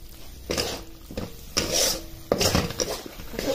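Dry spice powders being stirred into a masala paste in a pan make scraping, rubbing strokes with a few clinks of a utensil against the metal, close and in uneven bursts, no talk.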